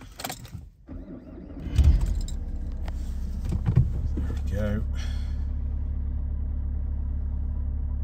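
A Vauxhall Insignia being started with its key: a brief key jangle, then the engine cranks and catches into a steady, close idle hum that continues to the end.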